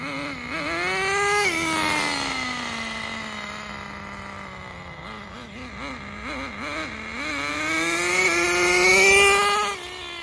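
A Thunder Tiger Tomahawk radio-controlled boat engine with a two-speed transmission runs loud and close, its whining note climbing, dropping at a shift point, wavering through a few short blips, then rising again before cutting back near the end.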